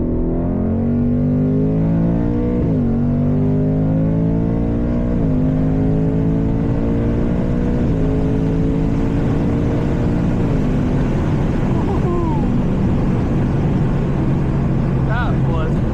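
A 2024 Mustang GT accelerating at full throttle, its engine note climbing steadily through several gear changes with brief dips between pulls, loud and close from inside the car, with road roar building underneath.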